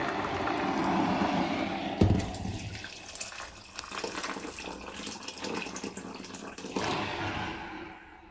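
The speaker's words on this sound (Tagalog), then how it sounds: "lagyan natin to ng mainit na tubig" Hot water being poured steadily from a kettle while preparing a traditional Chinese soup, a continuous close splashing and filling stream that runs for several seconds, briefly interrupted, then tapers off near the end.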